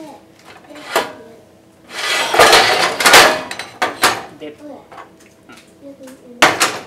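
A metal spoon knocks and scrapes against a pot holding liquid, with several sharp clinks and a longer scraping stretch, close and fairly loud, while someone talks over it.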